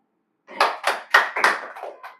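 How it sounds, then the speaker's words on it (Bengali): A few sharp hand claps for a player during a tongue-twister game, about five or six quick close claps in an uneven burst, alone in a quiet room. "ওর জন্য জোরে হাততালি দাও"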